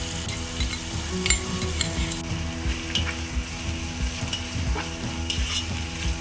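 Manchurian fried rice sizzles in a hot pan as soy sauce and green and red chili sauces go in, with continuous frying crackle, stirring scrapes and occasional light metal clinks.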